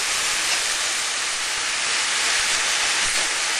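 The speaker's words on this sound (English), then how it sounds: "I'm just going to pop the mince in there." Beef mince hits a hot pan and fries with a loud, dense, hissing sizzle that stays steady and close for the whole moment, with no speech.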